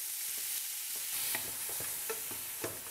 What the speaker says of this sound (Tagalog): Kailangang mainit ang mantika para hindi dumikit ang kanina kalabaw sa kaldero.